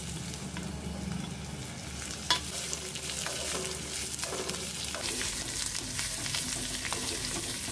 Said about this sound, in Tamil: இப்போ பீர்க்கங்காய் தோலியும் சேர்த்துக்கலாம். அதோடு சேர்ந்து உளுந்து நல்லா செவந்துடும்.